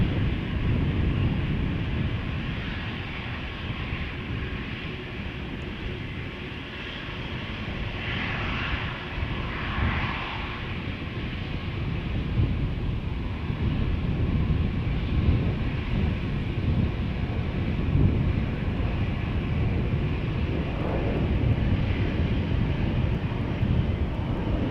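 United Airlines Dreamliner airliner departing Amsterdam Schiphol Airport, a steady broad jet roar that swells gently and holds loud throughout, with some wind buffeting on the microphone.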